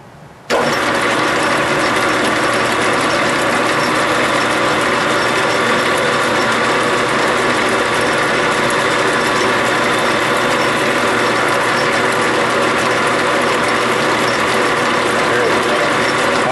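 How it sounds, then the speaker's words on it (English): A metal lathe knurls a brass stud, the wheel pressed by a tightened wing nut into the turning work, producing a loud, steady mechanical grinding drone that starts abruptly and holds unchanged throughout. "Tighten up this wing nut here on the, which will pinch onto the brass and start cutting the knurl."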